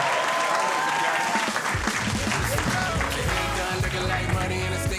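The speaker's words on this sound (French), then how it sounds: "Faites-vous un tonnerre d'applaudissements." Audience at a stand-up comedy show breaking into loud, sustained applause, dense clapping from a full room with some crowd voices mixed in throughout.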